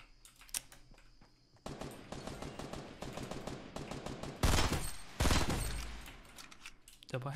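Rapid bursts of automatic gunfire from a Fortnite Battle Royale match, sustained crackling volleys with footsteps and game effects, fairly close, with someone talking over parts of it.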